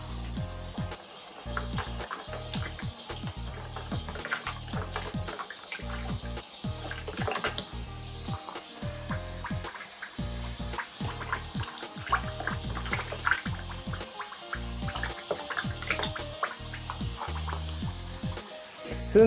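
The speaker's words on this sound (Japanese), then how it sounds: "今度はバスタブ側からシャワーを流しまして、排水口の中をすすいでいきます。" Shower water splashes into a bathtub drain as it is rinsed, a steady hissing spray with rhythmic surges and gurgles, close and continuous with no talking.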